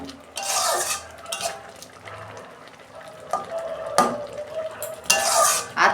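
A pot lid comes off a cooking pot of dal with metallic clanks, followed by bubbling and sizzling and more lid and utensil clatter in bursts, near and moderately loud.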